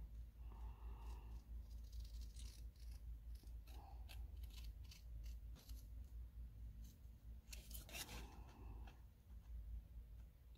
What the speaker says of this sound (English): Maybe I need to cut this part out.